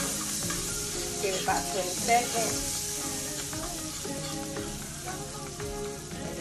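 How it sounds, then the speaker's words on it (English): Minced garlic sizzles in hot butter in a pan for a vegan mashed potato casserole, a steady close crackle with light stirring clicks while a person briefly talks over it. "I got my butter in the pan, it's already been simmered up"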